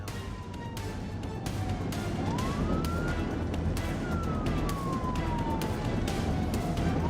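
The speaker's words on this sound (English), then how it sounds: "the trooper activated his emergency lights and siren to initiate a traffic stop" A police car siren wails continuously during a traffic stop pursuit, its pitch sweeping slowly up and down over steady road and engine rumble inside a moving vehicle.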